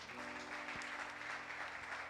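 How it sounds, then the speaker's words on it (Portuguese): A church congregation clapping during a Baptist evening service, a faint, continuous patter of many hands heard at a distance over a low electrical hum. "Aplauda o Senhor mais uma vez."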